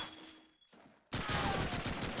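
Rapid bursts of gunfire from the World War II shooter Call of Duty 2 on the Dawnville map, a dense, loud volley of automatic shots kicking in abruptly after quieter scattered firing.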